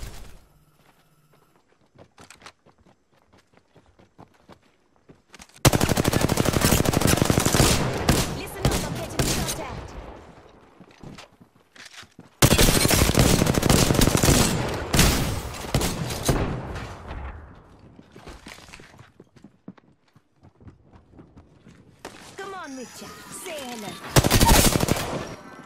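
Video-game gunfire comes in two long, loud bursts of rapid automatic shots, with scattered single cracks and quieter footsteps in the gaps between them, followed by a final short burst near the end.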